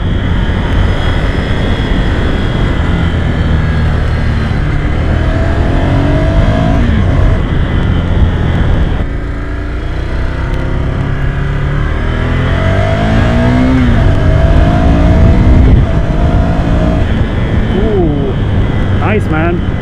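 A Ducati motorcycle engine roars loud and close on a test ride, its revs rising and falling through corners in sweeping pitch glides, with rushing wind constant underneath.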